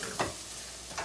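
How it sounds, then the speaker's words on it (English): Potatoes, onions and peppers fry together in a pan with a soft, steady sizzle, broken by two quick stirring scrapes near the start and end. "So it's letting the onions and peppers cook up a little bit more here."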